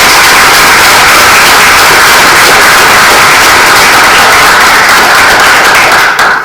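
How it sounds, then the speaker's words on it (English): Loud, dense audience applause at a political roast event sends off a departing speaker, steady and continuous throughout with no break or talk. "If you'd all give him a round of applause."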